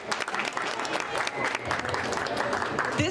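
Crowd at a Cakes For a Cause charity event applauding and cheering for a corporate challenge winner, dense sustained clapping with voices mixed in throughout.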